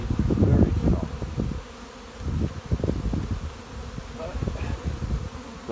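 Honey bees buzzing loudly at an opened hive during a colony split, a close, dense hum that surges and dips in waves over several seconds.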